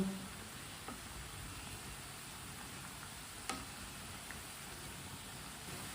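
Aloo palak pakoras, potato and spinach fritters, sizzle steadily in hot oil as they are turned to brown on both sides; a faint, even hiss with a couple of soft clicks.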